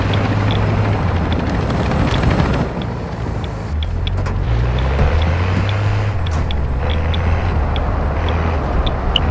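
Helicopter in Call of Duty: Modern Warfare II, a loud, steady rotor-and-engine drone that holds throughout with slight pitch shifts, mixed with faint game effects.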